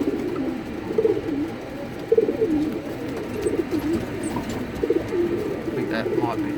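Pigeons in a loft coo continuously in low, throaty, overlapping calls, close and steady, with someone talking over them.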